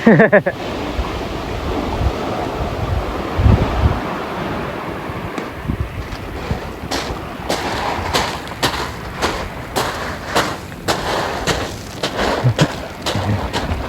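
Ocean surf breaking against rocks along a shoreline, a steady wash of surging water with gusts of wind buffeting the microphone and a few sharper splashes toward the end.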